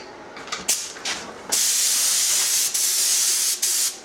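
An aerosol can sprays gel coat for a boat repair, a close, loud hissing spray in short bursts and then longer sustained blasts with brief pauses between them, with no talking.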